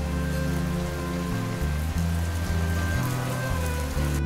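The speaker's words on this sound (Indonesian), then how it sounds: "sulfur di atmosfer turun sebagai hujan asam" Acid rain from volcanic sulfur in the atmosphere falls in a steady, even hiss beneath a loud, sustained music score, with the rain texture running the whole time without pauses.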